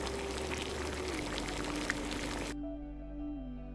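Steady bubbling and hissing of water boiling for steeping leaves, a continuous rushing wash with a faint tonal hum underneath, then it suddenly drops to quieter tones.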